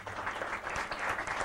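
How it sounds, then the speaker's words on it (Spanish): Brief applause from an audience at a book presentation ceremony honoring a doctor, a short burst of scattered clapping at moderate level. "Y un fuerte aplauso para el doctor."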